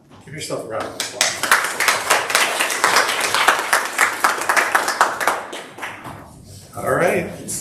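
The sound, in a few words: audience round of applause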